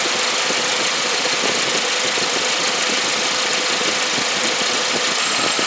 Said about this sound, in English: See that compressor now spinning.